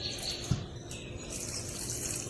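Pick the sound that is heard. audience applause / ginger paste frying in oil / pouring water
pouring water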